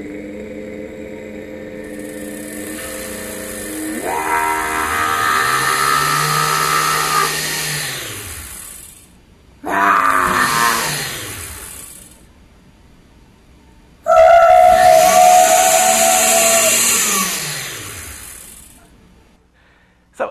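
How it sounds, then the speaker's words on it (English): A voice-activated blender built at MIT runs in three bursts: a long whirring stretch, then two shorter surges after brief pauses, each loud and close with motor pitch rising and falling, and no talking. "So it's a voice-activated blender."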